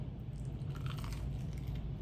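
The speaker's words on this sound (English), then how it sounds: "You hear the crunch on the chicken there?" Close, crisp crunching from biting into Dave's Hot Chicken fried chicken, a few textured crackles over steady low background noise.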